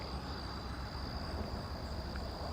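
Crickets and frogs chirping at night, with a steady high insect trill running continuously over a dense, even bed of outdoor night chorus.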